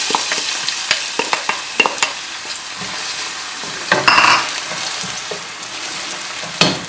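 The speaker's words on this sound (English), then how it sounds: "I'm going to fry the onions until it becomes translucent" Onions fry in hot oil in a pot, a continuous close sizzle dotted with rapid spoon scrapes and clicks, with a brief louder hissing flare partway through and no talking.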